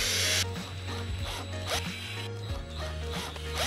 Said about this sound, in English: use your electric screwdriver to fasten them